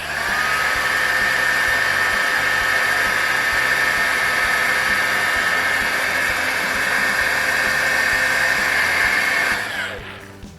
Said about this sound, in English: So, pulled out my heat gun.